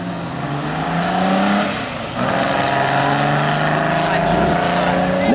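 An original Mille Miglia vintage car pulls away from the start at a Classic Days event at Dyck Castle, its engine revving loudly with rising and falling pitch, with voices talking over it.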